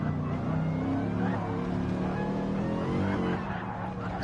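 A Mercedes race car in a sim racing game at the Nürburgring Nordschleife during a 24-hour endurance event, with a steady, droning engine note that shifts pitch slightly as it runs under a continuous layer of game audio.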